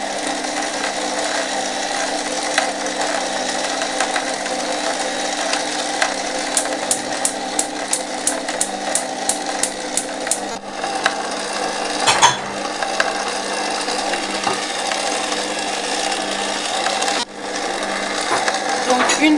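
Stand mixer kneading croissant dough of flour, butter and cool water at first speed, a steady loud mechanical whirring drone with faint rhythmic ticking, continuous throughout.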